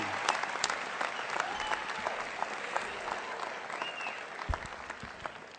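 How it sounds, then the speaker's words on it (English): Sustained audience applause from a graduation crowd fills the space, steady and dense clapping with a few louder claps near the end and no talking over it. "Give yourselves a round of applause"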